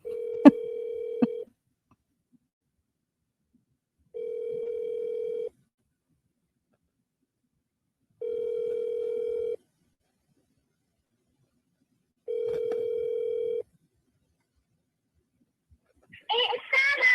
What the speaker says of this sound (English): I hear it's ringing.